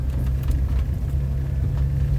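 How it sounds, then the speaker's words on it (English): A car interior carries a steady low engine and road rumble while driving, constant and fairly loud with no voices. "I think you can see we're driving."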